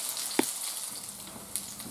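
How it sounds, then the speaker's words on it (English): Slices of cornmeal mush from a 19th-century Victorian recipe fry in grease in a pan, giving a soft, steady sizzle with a couple of sharp pops, close but fairly quiet. "To fry up cornmeal mush, let it cool thoroughly before cutting it in pieces and frying it to a golden brown on both sides."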